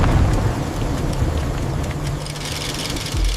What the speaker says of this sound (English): Storm's getting stronger.